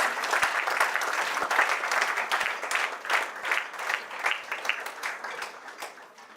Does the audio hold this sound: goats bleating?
no